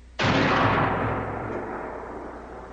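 A single loud gunshot cracks after a short quiet moment, followed by a long reverberating tail that slowly fades over the next two seconds.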